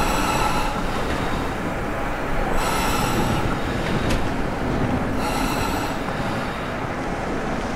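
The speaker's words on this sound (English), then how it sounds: "That was a train." A train in the video game Deus Ex: Mankind Divided roars past loud and close, its continuous rumble and rattling wheels punctuated by repeated bursts of high metallic squeal, with no voices.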